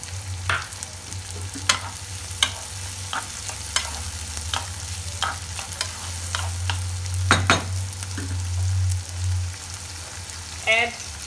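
Chopped onions (pyaz) frying in a pan for dhaba-style egg bhurji, giving a steady close sizzle throughout with scattered scrapes and clicks of stirring and a brief voice near the end.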